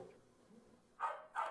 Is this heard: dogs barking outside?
yes